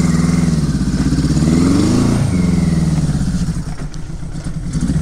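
A GS850 scrambler motorcycle ridden through snow, its carburetor needing more tuning, gives a close, continuous engine drone that swells and revs in pitch around the middle before settling back to a rougher, uneven idle-like chug.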